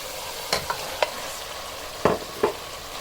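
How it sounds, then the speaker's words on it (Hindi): Chicken fries on high flame in a tomato masala with a steady sizzle, while a spoon scrapes and stirs the pan in a few sharp, separate strokes, with no voices. "हाई फ्लेम पे चिकन को भूनेंगे"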